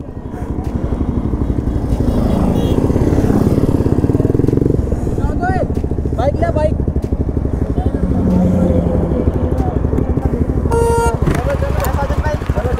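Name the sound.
Suzuki Hayabusa motorcycle engine while being towed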